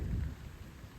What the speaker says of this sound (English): it's sprinkling right now, and it's kind of thundering a little bit.